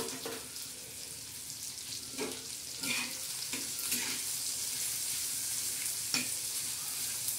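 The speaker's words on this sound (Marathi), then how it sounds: "अशी खरपूस अशी चांगली भाजून घ्यायची चटणी." Stone-ground dried Bombay duck chutney frying in oil on a hot griddle: a steady, close sizzle with occasional scraping clicks from stirring, and no voices.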